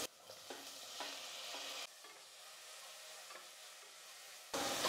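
Onions and tomatoes sautéing in a pan for idli kurma, close continuous sizzling with stirring scrapes, intensity shifting as the spoon moves, no voices.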